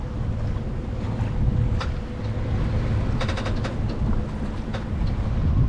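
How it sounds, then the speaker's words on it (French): Wind blows at sea during a sailing passage along the Spanish coast toward Denia, a loud continuous rushing roar with low rumble and occasional rattling clicks, no voices. "le vent souffle toujours"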